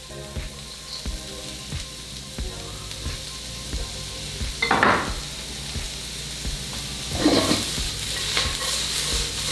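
Onions and carrots sizzle in a hot pan, a continuous frying crackle with intermittent louder bursts and scraping stir sounds, no voices.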